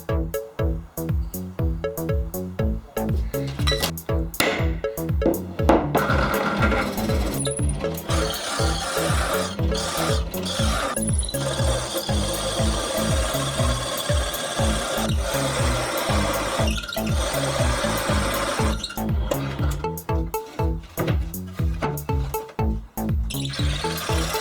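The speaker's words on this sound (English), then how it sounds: "I will drill the hole 12 centimeters from the front edge." A power drill bores into hardwood with a loud, continuous grinding whir and a rhythmic pulsing texture, close by, no talking.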